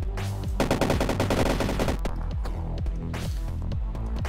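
Rapid automatic gunfire in the video game Karlson 2D: a dense burst of loud shots, then spaced single shots and short bursts, with no talk.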